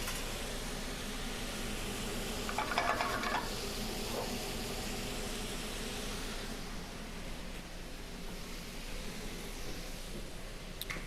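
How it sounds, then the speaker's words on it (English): Salmon sautéing in a hot pan gives a steady, soft sizzle and hiss, close but faint, with a few brief stirring scrapes and no talking. "If it ain't sizzling, you ain't sauteing."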